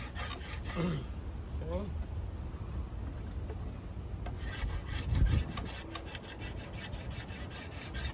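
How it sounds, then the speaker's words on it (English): A cabinet scraper shaves curls of material from the top limb of a hickory board bow with rawhide backing, making soft, steady rasping strokes at a low level, with a brief spoken word partway through. "use a cabinet scraper, and we're going to scrape off some material"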